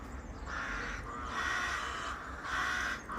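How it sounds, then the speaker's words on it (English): Crows caw and squawk in repeated bursts from nests in a tree overhead, fairly faint over steady outdoor background noise. "there's bird nests up on this tree, so you can hear the like crows or something like that all squawking around"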